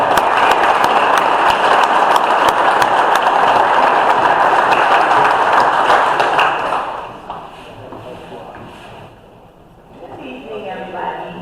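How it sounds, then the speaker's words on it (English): Audience applause at a community general meeting, loud and sustained for about six seconds, then dropping away sharply into a quieter stretch with faint room sound and a voice near the end. "let's give her a warm round of applause"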